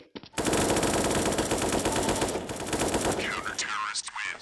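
Automatic rifle fire in a video game: a sustained rapid burst of loud, close gunshots rattling continuously for several seconds, then tapering into scattered shots and ringing tails.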